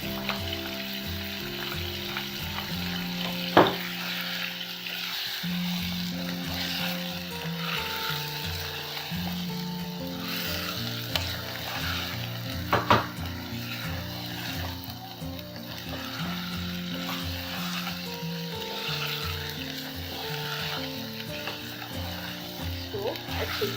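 Green chili and garlic-ginger paste frying in a karahi for chicken white karahi: a steady, loud sizzle with occasional stirring scrapes and clinks, continuing throughout with no voice on top.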